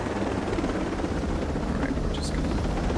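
A military helicopter in the tactical shooter Ghost Recon Breakpoint, its rotor drone steady and heavy from inside or close by, with a faint ringing beep rising briefly near the end and no talking.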